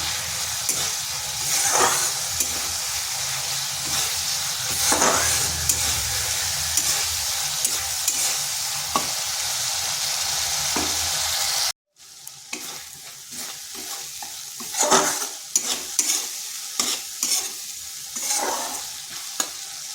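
A potato and pointed gourd curry is sautéed in a pan, a spatula scraping and stirring through a loud, continuous sizzle with repeated strokes; a brief cut midway leaves the frying and stirring resuming close up.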